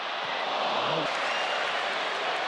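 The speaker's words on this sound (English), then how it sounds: "he got a nice round of applause" A stadium crowd at an Arsenal versus Villarreal football match applauds in a dense, continuous roar of clapping that stays loud and even, heard from a distance across the ground.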